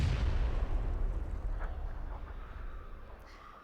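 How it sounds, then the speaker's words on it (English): Grenade explosion in the battle-royale game PUBG, a deep, rumbling blast at the start whose low roar fades away over the next few seconds, heard alone at moderate distance. "Was that a nade?"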